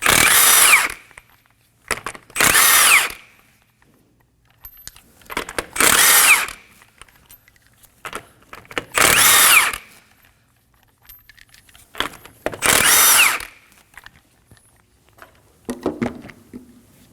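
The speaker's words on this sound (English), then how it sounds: "Using a 21mm socket, go ahead and remove the lug nuts." A power tool removes lug nuts from a Kia Optima wheel in five loud, close bursts of about a second each, separated by pauses with faint clinks of sockets and nuts being handled.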